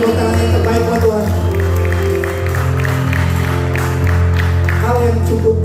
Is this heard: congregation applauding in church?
yes